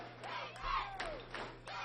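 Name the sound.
Holmes County crowd chanting defense at baseball game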